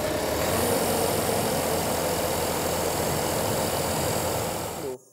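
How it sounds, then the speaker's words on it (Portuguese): A diesel generator runs during a maintenance test, giving a loud, steady, close-up engine drone with a rough, knocking texture that holds evenly and then cuts off abruptly near the end. "A gente vai verificar se esse gerador vai funcionar em perfeito estado de funcionamento"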